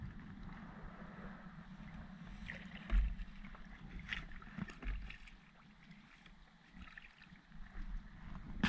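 Oars of a small rowing boat dip and pull through water as it moves along a coastal bay, with soft rhythmic splashes and knocks under steady wind and low background noise.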